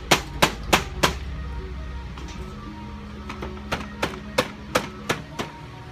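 A hammer taps a steering column shaft out of a Chevelle steering column: four sharp metallic strikes in quick succession, a pause, then another steady series of about seven taps, fairly close.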